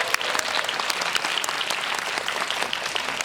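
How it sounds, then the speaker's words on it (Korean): Dense, steady applause from a cinema audience at a film screening Q&A in a CGV theater, many hands clapping continuously and close, with no talk over it. "박수 한번 부탁드립니다"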